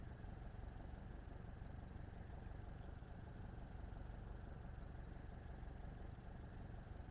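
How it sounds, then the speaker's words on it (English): A Scheufler SF25 Falke motor glider's engine idles at low RPM before shutdown, a steady, even drone with a deep rumble that holds at the same level throughout, with no voices over it. "almost idle the engine for a bit, just so the RPM can drop"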